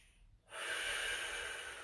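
Breathing while holding a static stretch in a full-body routine: after a brief quiet pause comes one long, steady, airy exhale, close and soft, with no talking.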